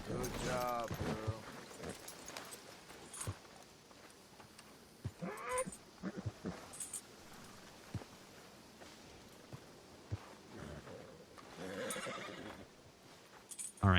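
A horse in Red Dead Redemption 2 whinnies loudly near the start, followed by scattered hoof clops, snorts and shuffling around a hitching spot, with quieter game sounds in between.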